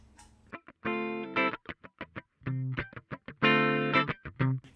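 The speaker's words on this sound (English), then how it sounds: "Let's activate the Sans Amp." An electric guitar plays through the SansAmp distortion of a Tech 21 Fly Rig 5 pedal, sounding out gritty, harmonically rich chords and notes in short bursts with brief gaps between them, alone and close.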